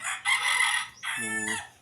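A chicken gives a short, close, loud vocal burst, then another call with a rising, crowing tone.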